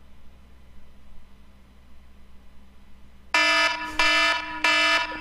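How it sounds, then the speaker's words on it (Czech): A loud electronic alarm used as a wake-up clock blares in three harsh buzzing bursts, each roughly a second long, that break in suddenly after a stretch of quiet room hum. "úplně nejlepší zvuk budíku, co můžete mít"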